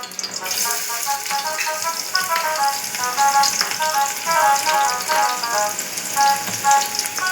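Onion pieces dropped into hot oil for egg bhurji sizzle with a continuous crackling hiss. The frying stays steady throughout, with faint voices in the background.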